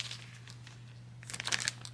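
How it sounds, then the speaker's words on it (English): A plastic bag from a stitching chart crinkles as it is handled, soft and close, with a quiet stretch of rustling that swells into a brief louder burst of crackling near the end. "It is in the plastic bag that the chart came in."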